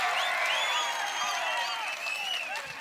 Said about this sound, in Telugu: గట్టిగా చప్పట్లు కొట్టి మీ హర్షాన్ని ఆమోదం తెలియజేయండి